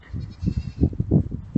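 A baby goat bleats in a series of short, wavering calls, loud and close, with no talk.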